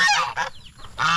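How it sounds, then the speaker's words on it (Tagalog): A goose honks loudly several times in quick succession, harsh nasal calls close by with short gaps between them. "Ayan yung gansa."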